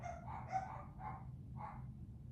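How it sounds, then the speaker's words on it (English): Pet dogs bark in the background of a home, three or four faint, muffled woofs spaced about half a second apart over a low steady hum. "Sorry for my dogs in the background"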